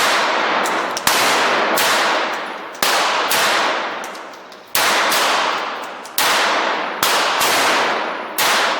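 Air Venturi ISSC M22 CO2 blowback BB pistol fired about nine times at an uneven pace, each sharp crack followed by a ringing, decaying tail, close and loud with no talking.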